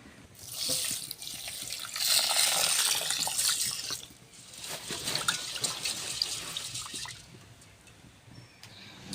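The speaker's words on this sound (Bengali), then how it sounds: "এই চালটা আমি জল দিয়ে আধ ঘন্টা মতো ভিজিয়ে রাখবো" Water runs from a tap over 300 grams of rice in a bowl, left to soak for half an hour in a home kitchen; two steady bursts of pouring and splashing, with a brief pause between them and a softer trickle after.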